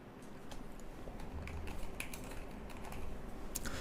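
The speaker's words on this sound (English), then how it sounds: "So let me just type it out here and just show it to you." Rapid typing on a computer keyboard during a trading chart tutorial, with dense continuous key clicks at close range over a low steady hum.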